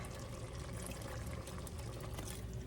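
Milk poured into a flour mixture for a cream sauce gives a steady, continuous liquid pour that runs unbroken at low volume for the whole few seconds, with no talking.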